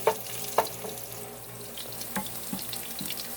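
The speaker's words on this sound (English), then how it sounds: "I'm going to throw it in the pan. Here it sizzles a little bit." Chopped onion sizzles faintly in hot oil in a pan while making Spanish rice, with a few sharp utensil clicks and scrapes from stirring over the soft frying hiss.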